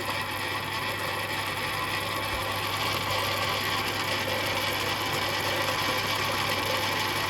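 Metal being turned on a lathe with a ball nose cutter, taking small cuts for a clutch on a 1939 Rudge motorcycle: a steady mechanical whir and hum with a fine, continuous cutting hiss, close and even throughout.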